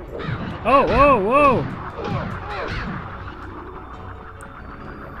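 Crows caw in the MediEvil video game: a few wavering, harmonic calls close together near the start, then fainter ones trailing off, with a voice speaking alongside.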